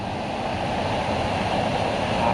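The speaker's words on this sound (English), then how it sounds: "So we may have found a waterfall." A waterfall at Poulanassy near Mullinavat, Kilkenny, gives a steady broadband roar with some wind noise, constant and fairly loud with no speech.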